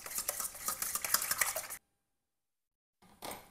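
A whisk beats 50 grams of sourdough starter into water in a bowl, making rapid, close scraping and clattering strokes for nearly two seconds. It stops into silence, then resumes briefly.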